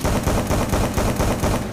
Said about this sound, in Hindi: शॉर्ट गन से मार रहा है छोटे।